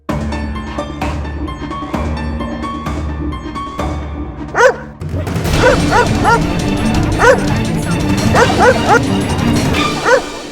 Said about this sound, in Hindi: ये कुत्ता अदालत में क्या कर रहा है?